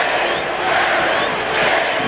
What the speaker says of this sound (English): The crowd trying to bother Karl Malone by giving him its own 10-second count